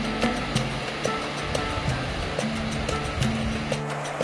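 Sea waves wash in at the golden beach of Dakshin Purushottampur at low tide, a soft continuous surf hiss with gentle swells and faint background sounds.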